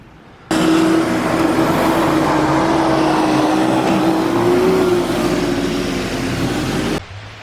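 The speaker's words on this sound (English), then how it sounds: "Hopefully the cars don't make too much noise" A loud, steady roar of cars passing on a road by a bridge, with a sustained engine drone that starts abruptly and cuts off near the end, no voices.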